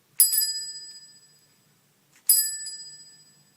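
A bicycle bell rings twice, two bright metallic dings about two seconds apart, each ringing out and fading cleanly against silence.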